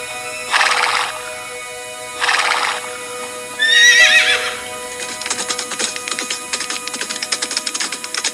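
A horse neighs loudly, then hooves clip-clop in a steady rhythm, close and clear, as an audio drama sound effect with no talk.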